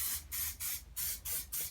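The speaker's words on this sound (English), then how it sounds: "I'm just going to put a bit of etch primer just on the back of them" Etch primer sprays from an aerosol can onto the backs of metal pipe clips for a Classic Mini restoration, coming as five short hissing bursts in a quick, even rhythm, fairly faint.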